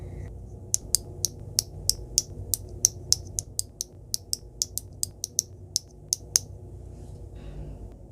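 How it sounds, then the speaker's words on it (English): Two halves of an RS3M 2020 speed cube fitted with glued-in magnets are pressed together, giving a quick series of sharp, close clicks and snaps, some spaced and some in rapid bursts, over a quiet background. "it's just a matter of putting the 2 halves back together again"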